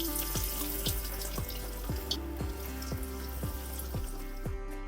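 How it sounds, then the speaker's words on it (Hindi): Breaded aloo tikki burger patties fry in hot oil with a steady, close hiss and crackle, broken by regular soft bubbling pops. "अब बर्गर को ऑयल में डाल दें।"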